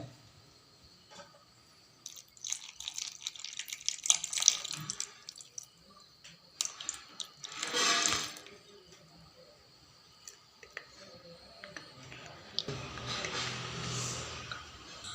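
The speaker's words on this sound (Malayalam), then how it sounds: "അതിനകത്തേക്ക് നമുക്ക് പുളിവെള്ളം ഒഴിക്കാവേ" Tamarind water splashes and trickles in a few bursts, with pauses between pours and a steadier stream near the end; no voices.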